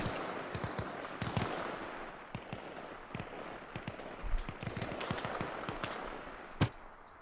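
Bombardment gunfire in the Arma Reforger video game: scattered sharp shots and distant booming blasts crackle irregularly throughout, with one louder crack near the end, all at moderate distance and without talk.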